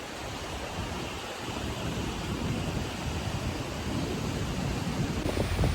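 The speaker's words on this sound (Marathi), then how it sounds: "इतकी निरव शांतता इथे आहे की समुद्राची गाज सुद्धा स्पष्ट ऐकायला येते" Sea surf rolls in at Karde Beach on a quiet evening, a steady, soft, distant roar that swells slightly over time with no voices present.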